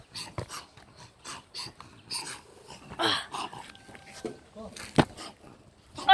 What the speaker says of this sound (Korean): 이 강아지들 있네요